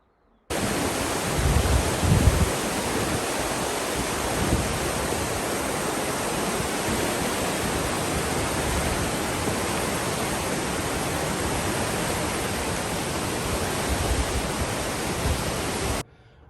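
Flood water rushes through brush and trees in a creek toward a bridge, a loud, steady broadband roar that holds unbroken for about fifteen seconds.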